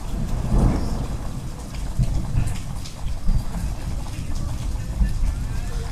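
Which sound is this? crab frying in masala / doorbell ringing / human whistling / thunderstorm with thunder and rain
thunderstorm with thunder and rain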